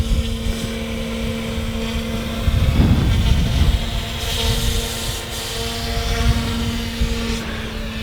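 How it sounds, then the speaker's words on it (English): A small Eachine E120S direct drive RC helicopter hovers nearby with a steady, buzzing rotor whir and a constant motor hum, swelling briefly louder partway through; no one speaks. "So I want you guys to hear this helicopter."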